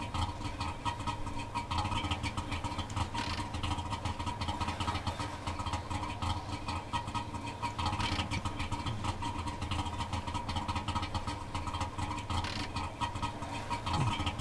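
A car engine idles in the driving game The Long Drive, a steady, moderate low rumble that holds evenly throughout without talk.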